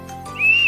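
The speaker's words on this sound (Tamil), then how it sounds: "blowing exercise first whistle" A short whistle is blown during a speech therapy blowing exercise, giving one brief, steady high tone that rises in after a low murmur of background noise.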